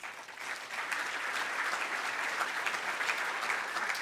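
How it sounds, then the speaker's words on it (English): An awards ceremony audience breaks into applause, building quickly from a few claps into steady, full clapping from a large crowd heard at moderate distance. "So round of applause to you."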